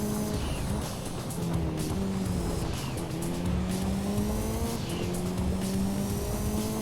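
Race car engine revving and shifting on a dirt course in Gran Turismo 2, a loud steady drone with rising and falling pitch sweeps, tire squeal and skidding throughout, with no voices.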